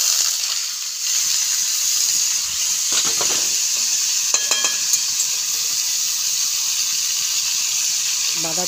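Cumin seeds and bay leaf crackle in hot oil for a tempering, a continuous close sizzle with a few brief scraping stirs and sharp pops in the middle.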